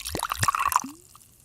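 A double pour of a drink: liquid splashes and trickles into a glass for about a second, with a short rising fill tone before it trails off into quiet drips.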